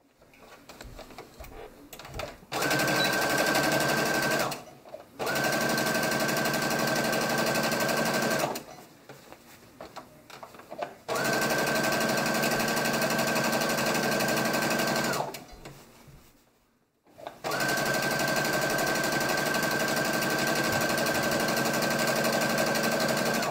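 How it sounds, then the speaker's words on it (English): A domestic sewing machine stitches the side seams of high-waisted shorts in three long, steady, close whirring runs separated by brief pauses with handling noise. "I'm going to go ahead and sew the side seams on this one."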